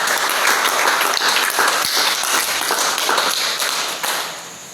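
A congregation at a Thursday prayer meeting bursts into sustained applause and cheering, a dense, loud wash of clapping that holds steady and then begins to fade toward the end.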